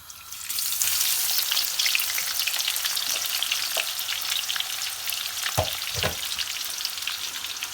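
Onions browning steadily in a pan for a biryani spice base give off a loud, continuous crackling sizzle, with a couple of soft stirring scrapes near the end and no voices.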